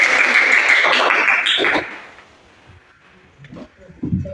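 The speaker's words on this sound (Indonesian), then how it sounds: "Beri tepuk tangan." A fourth-grade science class claps in a short, lively burst that dies away after a couple of seconds into quiet, and a voice starts speaking at the end.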